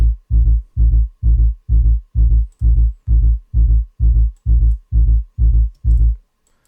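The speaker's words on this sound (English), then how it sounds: "It's sort of a basic sine wave here with a bit of distortion." A techno sub bass made from a lightly distorted sine wave on the Zebra synth pulses in thirteen even, deep thumps at a steady four-on-the-floor pace, loud and alone before stopping.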